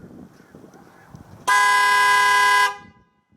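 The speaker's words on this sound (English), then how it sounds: "we'll just do the stock horn" A stock truck horn blasts once, loud and steady for about a second, with the truck's engine off, then cuts off and fades into quiet room noise.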